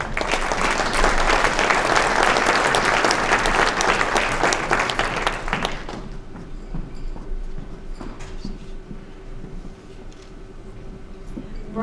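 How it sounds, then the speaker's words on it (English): An audience at a gala dinner claps in a dense, loud burst of applause that holds for several seconds, then thins into scattered claps and quiet room murmur. "Please give one more big round of applause to all the organizations that support."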